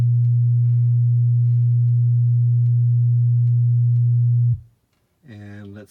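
A steady 120 Hz test tone hums from a Powerfield Supercube subwoofer in a garage, loud and unbroken for several seconds before cutting off, followed by a brief harmonic blip.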